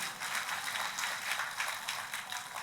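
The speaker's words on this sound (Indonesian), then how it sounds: "Tepuk tangannya yang meriah buat Tuhan kita" A church congregation breaks into sustained applause during a service, a dense, even wash of many hands clapping at a moderate distance, with no voices over it.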